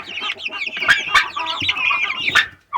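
Backyard chickens clucking close by in the morning, a busy run of overlapping clucks and short calls from several birds, with no one talking.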